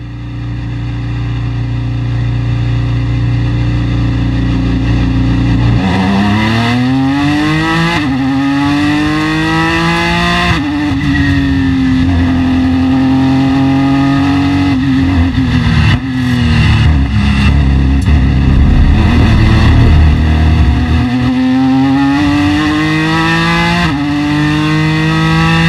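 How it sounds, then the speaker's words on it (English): A Ford GT race car pulls away from the pit box at Le Mans, its engine idling loudly then rising through a series of sweeping gear changes, close and dominant throughout. "As I accelerate away from the pit box,"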